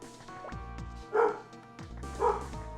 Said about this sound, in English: I don't know why the dog is barking.